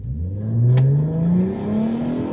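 A £1000 used car pulls away from a standing start, its engine note climbing steadily as it accelerates, loud and close, with a brief clatter near the start and no talking.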